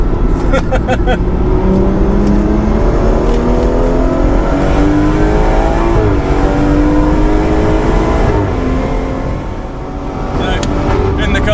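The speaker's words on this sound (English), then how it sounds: "Them pops and bangs, jeez." Tuned 510bhp BMW M240i driven hard on a race track, its engine roaring loudly and continuously through gear changes with rising revs, while exhaust pops and bangs crackle on the overrun beneath a voice talking over the noise.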